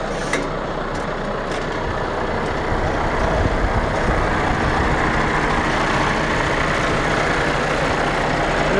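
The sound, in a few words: combine harvester engine running during wheat harvest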